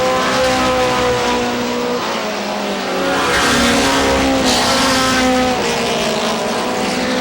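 Race cars roar down the backstretch at Star Speedway in New Hampshire, loud sustained engine drone with shifting pitch as the pack passes, with no talking.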